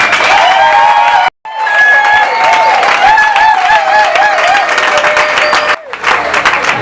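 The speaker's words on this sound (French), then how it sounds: "voilà pour applaudir pour la maman" An audience applauds for a mother at a women's memorial ceremony, loud sustained clapping and cheering with a brief cut early on, and voices, including high calls, ringing over the crowd.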